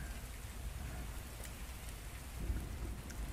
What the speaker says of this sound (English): the rhythm of the raindrops pattering on the roof. And just pay no mind to the sound of the thunder.